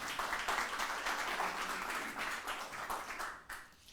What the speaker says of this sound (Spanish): Vamos a darle un aplauso al Señor en esta mañana.